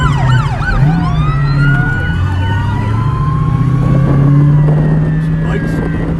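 Police car siren wailing at a parade alongside Ohio Highway Patrol and California Highway Patrol cars at the Ferndale Emergency Show, a steady rising and falling tone over idling engines and crowd noise, loud and continuous throughout.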